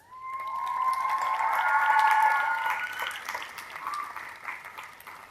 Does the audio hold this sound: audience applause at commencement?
yes